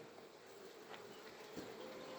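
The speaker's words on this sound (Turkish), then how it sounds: "arı böyle tedirgin arı. Kanat çırlıyor." A steady, close buzz of many agitated honeybees fanning their wings together at a hive in spring, low and continuous, with no voices.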